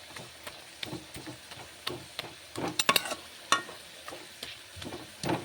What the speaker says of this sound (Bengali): আলুগুলো একদম পুরো হাতা দিয়ে সব গলিয়ে দিচ্ছে